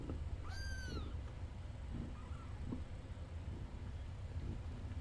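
A tiny feral kitten gives one clear high squeaky meow early on, followed by a few faint softer squeaks over a low steady background rumble.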